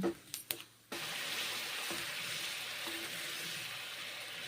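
Grated coconut fries in a pan with a bay leaf, a steady close sizzle running on after a few brief clatters at the start, with faint watery hiss throughout.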